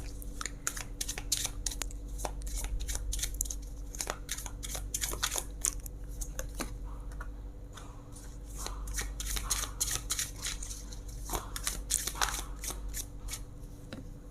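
Tarot cards are shuffled by hand for a reading, producing close, continuous riffling and flicking bursts that go on through the whole stretch over a low steady hum, with no talking.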